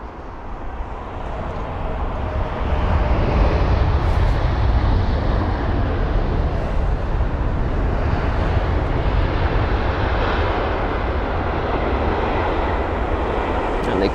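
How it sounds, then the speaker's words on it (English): An Etihad Boeing 787-9 Dreamliner arrives and lands at London Heathrow, a broad, sustained engine roar that swells early and stays loud and steady, with a voice talking over it. "we're focusing on now is the Etihad 787-9 Dreamliner with the reg Alpha 6 Bravo Lima Zulu or A6BLZ"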